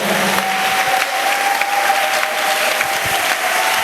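A church congregation at a French-language resurrection declaration service bursts into loud, sustained applause and cheering, a steady dense roar of clapping from many hands with a brief whistle-like tone early on.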